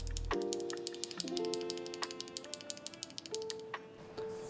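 Typing on a Feker K75 mechanical keyboard with factory-lubed Kailh Vanilla Icecream linear switches: a quick, steady run of clean, soft keystrokes heard over a sustained tonal background with shifting notes.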